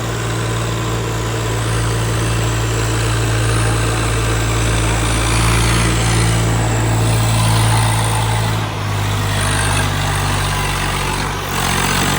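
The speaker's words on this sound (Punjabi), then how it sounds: "ਹਲੇ ਵੀ ਟਰੈਕਟਰ ਕਾਫੀ ਆ ਰਹੇ ਨੇ" Tractors pass along a village road near the flooding Sutlej river, their steady low engine drone continuous and fairly loud, swelling and dipping slightly as vehicles move by with no voices over it.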